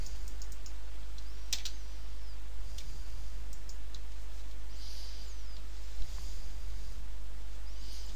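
A computer mouse clicks a few times, sharp and isolated, over a steady low electrical hum, with no speech.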